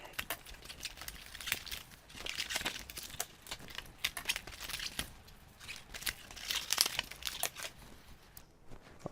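Wrappers on 2020 Topps Chrome trading card packs are torn open and crinkled up close, a run of bursts of crackling and tearing with brief pauses between them.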